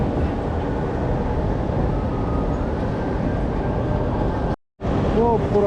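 An old train passes through the city centre near Bratislava Castle, a continuous loud rumble and rattle that cuts out briefly near the end before a faint whine returns.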